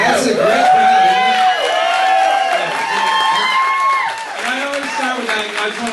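An audience at a comedy show whoops and cheers, with some clapping underneath, loud and lively. A voice talks over the crowd throughout.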